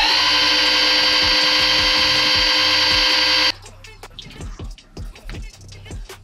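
A power drill spins a socket to prime the oil pump of a 1993 Ford Mustang notchback, giving a loud, steady whine for about three and a half seconds before it cuts off, followed by someone talking.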